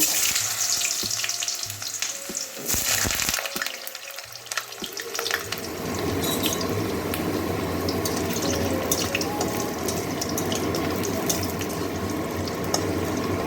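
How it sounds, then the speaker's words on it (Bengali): Potatoes fry in hot oil in a home kitchen, giving a steady close-up sizzle after a few clanks and a brief gap of quieter handling at the start. "তেল গরম হয়ে গেছে এবারে আলু কটা আগে ভেজে নেব"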